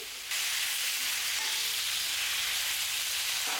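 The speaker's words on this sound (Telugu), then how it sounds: "గోంగూరలో వాటర్ అంతా ఇంకిపోయి మనకి బాగా ఉడికిపోవాలండి ఈ గోంగూర అనేది" Gongura leaves cooking down in a pan give a steady, fairly loud sizzle and hiss that starts suddenly and continues evenly for about three seconds, with no voices.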